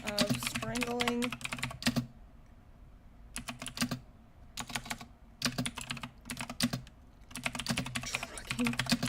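Fingers type on a computer keyboard in quick bursts of clicking keystrokes, broken by short pauses. The typing is close and fairly quiet, and a voice is briefly heard at the start.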